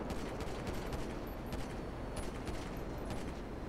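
Rapid gunfire from a video game mini-game of snipers versus runners, a dense steady rattle of shots running the whole time with sharp cracks on top, loud and close.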